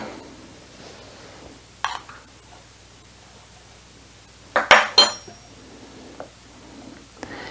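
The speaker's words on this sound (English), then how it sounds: "spoon in the almonds as well and kind of mix it through. So just carefully fold it." A spoon clinks and scrapes against a bowl while folding almonds into a vegan cake batter, with a few soft taps early on and a cluster of sharper clinks midway, in a quiet kitchen.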